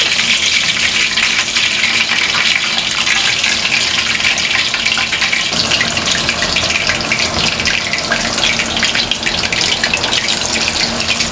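Marinated chicken drops into hot oil for frying, setting off a loud, continuous hissing sizzle that stays close and steady throughout with no voices over it.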